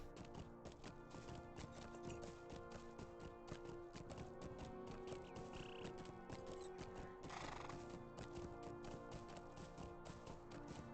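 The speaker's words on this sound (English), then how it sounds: "And then we'll use the horse to get to the other place." A horse in Lord of the Rings Online, with steady clip-clopping hooves running throughout and a whinny partway through, set against continuous game music and ambience.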